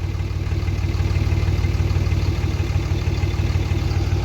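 A Cummins diesel truck engine idles steadily after being restarted, a close, continuous low rumble with a fast, even pulse. No voices are heard.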